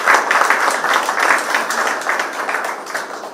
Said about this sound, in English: A big round of applause for Anil Sekia.